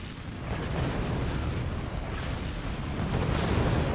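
Weapons fire and explosions in the fort-building strategy game Forts, a dense continuous rumble of overlapping booms and blasts that holds steady and loud throughout, with no voices.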